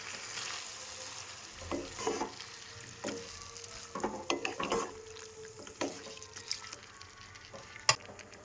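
Boiled Malabar spinach is stirred into fish head and onions in a pan. A spatula scrapes and knocks irregularly over a low sizzle, quiet and close, ending with one sharp clack.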